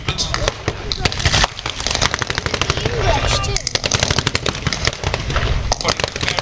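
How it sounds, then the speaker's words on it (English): Heavy sustained machine-gun and rifle fire rattles in rapid, dense bursts at a World War II tank battle reenactment at Tank Fest, loud and continuous, with a commentator talking over it. "Putting very heavy weight of fire down on the German defenders"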